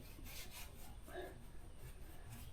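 Hand rubbing weathered old adhesive off the hull of a Skeeter bass boat, a soft continuous scrubbing friction in close view, steady and fairly quiet, with no talking over it.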